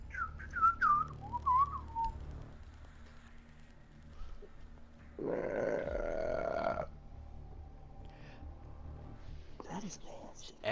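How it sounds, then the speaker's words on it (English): A long, loud burp rumbles for about two seconds among players voice-chatting during a Rainbow Six Siege match, with whistling and mouth noises nearby. "Everybody needs to stop burping."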